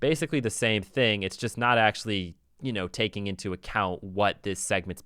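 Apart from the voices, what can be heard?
No everyday noise stands out behind the speech.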